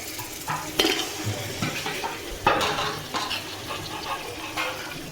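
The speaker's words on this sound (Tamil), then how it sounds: "1 கிலோ மட்டனை இப்போ நம்ம ஆட் பண்ண போகிறோம்." Pieces of mutton are stirred in a hot pot of oil for biryani, with a soft, steady sizzle, clinks of a metal spoon against the pan and scraping strokes close by.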